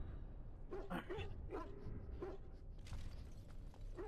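A dog in the Dragon Age: Origins video game barks and yips several times in short bursts, faint over a low background hum.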